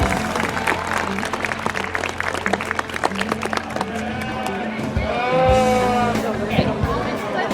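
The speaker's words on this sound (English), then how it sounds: "Can we get a round of applause for these amazing showmen?" Audience applause for youth sheep showmen at a livestock show, dense clapping throughout with crowd murmur and a sheep bleating near the end.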